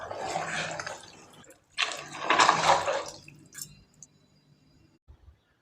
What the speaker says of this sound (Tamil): நான் தாளித்து கொட்டும் போதே நல்லா கலந்து விட்டுக்கலாம்.